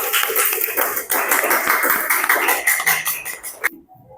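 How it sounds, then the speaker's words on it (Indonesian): A school class claps for a student group, a burst of many hands clapping quickly and irregularly close by, tapering off and ending abruptly after about three and a half seconds. "Coba tepuk tangan untuk kelompok Mawar"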